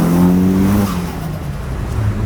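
A car fitted with a T25 turbo accelerates, its steady engine drone holding a clear tone before easing off into a rougher, quieter rumble over about two seconds, with no talk.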